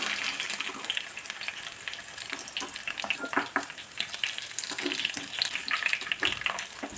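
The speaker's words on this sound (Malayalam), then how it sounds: "ചിക്കനൊക്കെ നന്നായി ഫ്രൈ ആയി" Chicken pieces for spicy chicken kondattam fry in oil with a steady bubbling sizzle, close and fairly loud, broken by occasional pops and stirring clatter.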